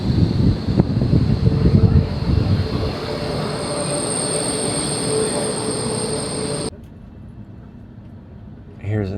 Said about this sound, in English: It's the fastest train.